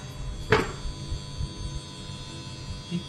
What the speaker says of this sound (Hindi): हमारे फ्रिज के अंदर से भी साउंड हमको सुनाई दे रहा है